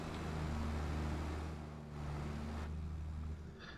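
A tractor in a farming video game drives along with a steady, droning engine hum and low rumble, loud and continuous, with no talking.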